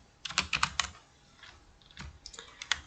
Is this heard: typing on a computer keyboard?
yes